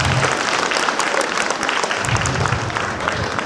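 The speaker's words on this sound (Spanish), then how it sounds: "Y démonos un aplauso muy fuerte porque somos indígenas" Attendees at an indigenous language congress conference applaud together in strong, sustained clapping that fills the room throughout.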